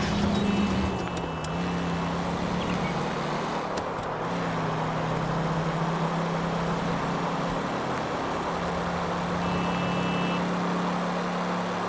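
A car driving in the video game L.A. Noire, with a steady low engine hum and road rumble continuing throughout at moderate level, and no talking.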